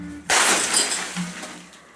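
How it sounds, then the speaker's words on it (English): A glass bottle smashed in a rage room lined with plastic sheeting: one sudden loud shattering crash, then a spray of fragments tinkling and skittering as the noise slowly fades out. "I think I've actually got a video here of us smashing a bottle"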